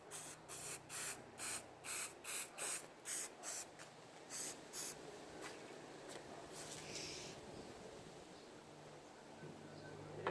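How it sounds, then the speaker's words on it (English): Short bursts of aerosol spray paint hiss while painting a Beyblade, about ten quick pulses in a steady rhythm, then a longer softer spray over a constant background hum. "I'll spray it over here."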